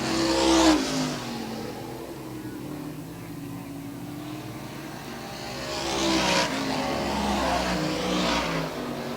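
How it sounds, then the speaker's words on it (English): Race cars roar past on an oval track at an airborne-themed stock car event, engines swelling loud near the start and again later as cars pass close, with a steady engine drone between. "he better be careful going around his other race car that Michael Labreche is in"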